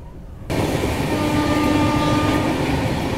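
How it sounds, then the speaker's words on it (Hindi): The Avadh Assam Express runs near Bathinda: a loud, continuous rail rumble and rattle comes in abruptly and holds steady, close and without voices. "ट्रेन हमारी समय से बिल्कुल चल रही है।"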